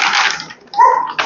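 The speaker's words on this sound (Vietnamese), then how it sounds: "Sủa ở đây thành ra thu vào mic, anh chị em nghe không rõ." Dogs at a dog breeding farm bark in a short, loud close burst, one sharp bark followed by a whining yelp, with no talk.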